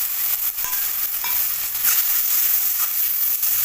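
Powdered spices mixed with water sizzle and hiss in a hot pan while being stirred, a loud, close, steady frying crackle with occasional scraping taps, and no voices.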